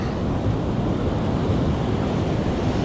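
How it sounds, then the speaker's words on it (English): Ocean surf washes up on the shore in a continuous broad roar with some wind rumble against the microphone, loud and close, with no voices. "I have to worry about the incoming surf"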